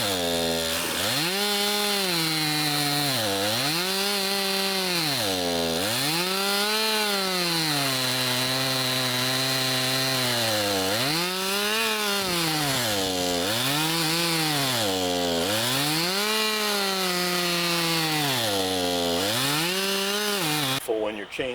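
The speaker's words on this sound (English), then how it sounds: "When your chainsaw is just a little bit too small" A small chainsaw cuts into a gnarly boxelder tree near a power line, its engine loud and close, revving up and bogging down in repeated surges as the chain bites through the wood.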